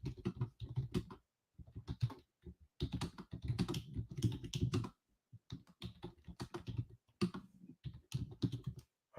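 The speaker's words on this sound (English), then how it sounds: "I'm going to type it in right now." Typing on a computer keyboard in irregular bursts of quick clicks with short pauses between, close and fairly quiet, no voice over it.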